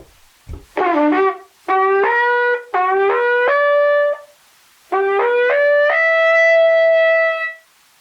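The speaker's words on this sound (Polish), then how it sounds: "Mężczyzna gra na przygotowanej ligawce." A wooden ligawka horn is blown in several long, loud phrases, each note sliding upward to a sustained brassy tone, with brief pauses between them.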